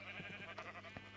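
Sheep bleating in Minecraft on a sheep farm, a short, faint, wavering bleat under low background noise.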